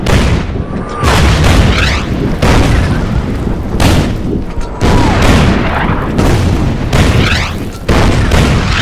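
Artillery fire and explosions in the war strategy game Order of Battle, a rapid series of loud, heavy booms one after another, each with a rolling tail, dense and close.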